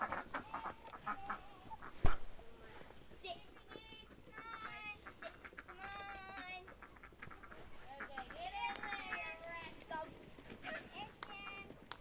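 Free-range chickens gather for evening feeding, clucking and chattering in a loose, busy chorus at close to moderate distance, with a single sharp knock partway through and a few quiet footsteps in the background.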